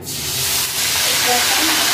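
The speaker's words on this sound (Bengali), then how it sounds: "ফোড়নটা ভাজা হয়ে গেছে, দেবো পেঁয়াজ বাটা।" Onion paste goes into hot oil already tempered with whole garam masala, while cooking bhetki fish-bone chachchari, and sets off a loud, close, continuous sizzling hiss that rises and holds.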